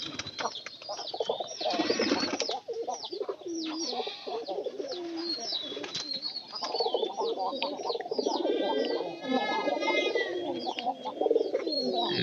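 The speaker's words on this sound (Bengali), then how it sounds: "কবুতরগুলা" Domestic pigeons in a Bangladeshi home loft coo and call continuously, several birds overlapping in a dense, close, steady chorus with chirps mixed in and no talking.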